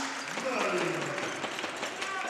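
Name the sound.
crowd applauding a basketball play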